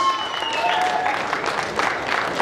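A crowd at a bodybuilding competition applauds the new IFBB Pro winner with a burst of clapping and cheering, fairly close, while a voice briefly carries over the noise.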